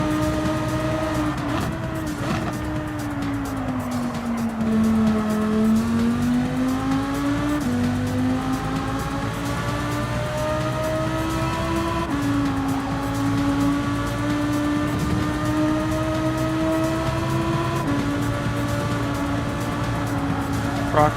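A Lamborghini race car in a racing video game, its high engine note climbing and dropping through gear changes over a long stretch, with some tire squeal, loud and continuous.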